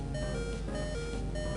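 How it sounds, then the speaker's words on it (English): A repetitive low-health warning beep from a Pokemon Emerald battle, steady rhythmic electronic tones over game music, with no voices. "we've got an annoying beeping going on"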